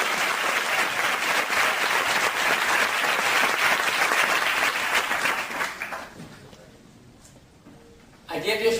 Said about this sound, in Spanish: un gran aplauso para Miguel y Pilar.